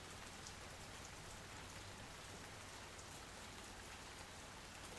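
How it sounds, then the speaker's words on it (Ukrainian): Steady rain pattering on a windowsill, a soft continuous tapping with no voices, fairly faint and even. "це вистукує свою мелодію по підвіконню. Послухайте її."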